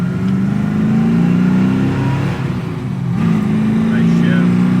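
A 1970 Ford Mustang Boss 302 V8 accelerating in second gear, heard from inside as a loud, steady engine drone that dips briefly for a gear shift and then pulls again, with a voice speaking over it.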